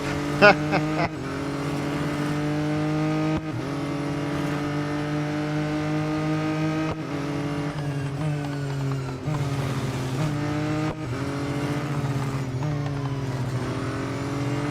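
Formula E race cars in the Real Racing 3 mobile racing game, a steady electric whine with rising and falling pitch over nearly fifteen seconds, shifting as the car accelerates and brakes, loud and continuous.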